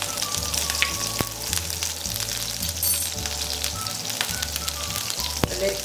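Ginger, lots of garlic and green chili sizzling in hot oil in a pan, a steady frying crackle with faint pops, joined by a low rhythmic background hum.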